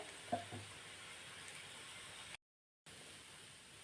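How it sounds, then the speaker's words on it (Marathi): Cucumber thalipeeth roasts on a hot pan with a faint, steady hiss and a soft tap near the start, broken by a brief moment of silence before the quiet sizzle resumes. "आता हे दोन्ही साईडनं आपल्याला खमंग भाजेस्तोवर मस्त भाजून घ्यायचं"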